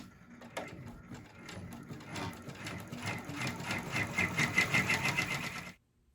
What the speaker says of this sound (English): now we just run that satin stitch